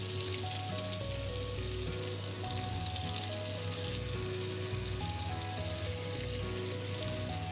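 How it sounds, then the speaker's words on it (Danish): Eel pieces coated in breadcrumbs and rye flour frying in rapeseed oil in a pan, giving a steady, dense crackling sizzle that runs unbroken throughout with no talk. "Så vi skal have gjort den panden klar, og så skal vi i gang med at stege op."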